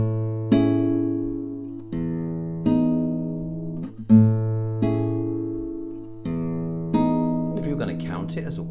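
Solo piano playing the opening page of Satie's Gymnopédie No. 1, slow waltz chords with sustained low notes struck roughly every one and a half seconds, clear and close with soft melody notes above.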